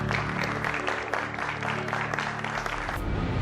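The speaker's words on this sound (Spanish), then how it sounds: "Les vamos a dar un aplauso" Applause from an audience fills the space, steady and moderately loud, layered over a low sustained musical tone that carries on underneath.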